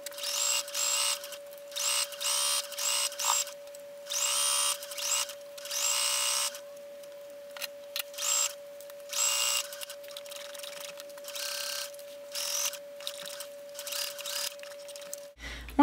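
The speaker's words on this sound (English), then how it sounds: "I'm just going to start sewing all the way around" Sewing machine running around the hem of a pair of shorts with a twin needle, in repeated bursts of fast mechanical whirring separated by brief pauses, with a steady background hum underneath.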